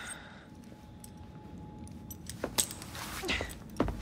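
Faint metallic jingle of keys being handed over in Assassin's Creed Syndicate, a few light clinks over a quiet room tone, with a low hum early on.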